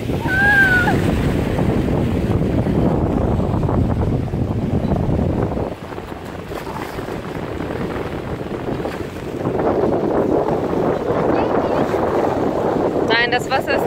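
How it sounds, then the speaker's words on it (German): A sea wave washes up on a beach, loud and close, mixed with surf roar and heavy wind buffeting the microphone, while people talk nearby. "kommt die Welle."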